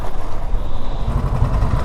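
A KTM Adventure 250 motorcycle engine hums steadily while riding on the road, a loud low rumble mixed with wind noise and no talking.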